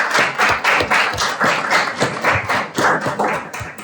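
Dense, full applause from an audience welcoming a performer on stage, a loud continuous wash of many hands clapping, with a sustained roar and no voices above it.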